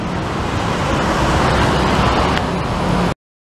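Steady roadside traffic roars at a bus stop, a continuous broadband wash of passing cars, buses and engines close by, holding at an even level before cutting off abruptly near the end.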